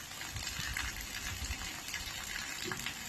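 Rainwater gushes and splashes steadily during a heavy village downpour, a dense, continuous wash of flowing water close at hand with no clear breaks.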